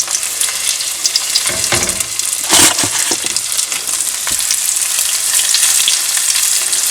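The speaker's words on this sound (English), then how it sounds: "It's sizzling and popping a little bit there." Steady, crackling sizzle of bass frying in a hot skillet, with a few sharper pops and spatters rising above the continuous hiss.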